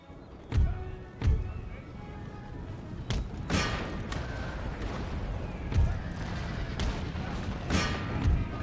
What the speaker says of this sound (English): Let's get the horses out the way so the cannons can keep firing.